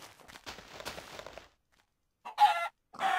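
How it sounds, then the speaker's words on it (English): Minecraft-style chicken clucking in a video game, a run of faint clucks and footstep-like taps followed after a pause by two louder, close, bright clucking bursts. "Hello, chicken."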